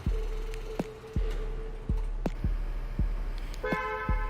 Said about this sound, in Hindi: जो अलर्ट है गाड़ी अनलॉक और लॉक होने का